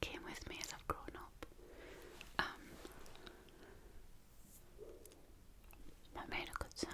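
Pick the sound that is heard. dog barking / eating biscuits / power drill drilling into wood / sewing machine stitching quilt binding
eating biscuits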